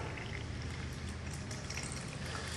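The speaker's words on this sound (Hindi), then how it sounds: "Gently pour some water into it." Water gently poured into a glass jar holding garden soil and oil, a steady close trickle and fizz running unbroken with no talking.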